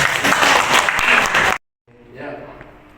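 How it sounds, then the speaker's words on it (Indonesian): Audience applause at a public speaking training session for elementary school teachers, loud dense clapping for about a second and a half, then a sudden cut to silence and a softer, quieter stretch of clapping. "Tepuk tangan dulu ya semua."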